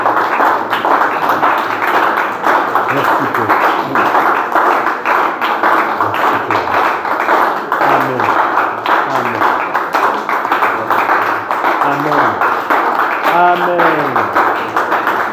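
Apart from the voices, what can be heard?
congregation clapping and applauding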